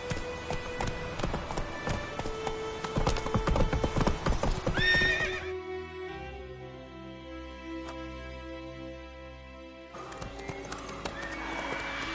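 Roach the horse gallops in The Witcher 3, with fast clip-clop hoofbeats up close and a whinny. The hooves pause midway and then resume, with little speech.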